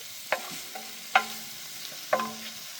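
Meat and canned mushrooms frying in a pan at a campsite, a soft steady sizzle punctuated by three sharp clanks of a utensil stirring against the pan, close up.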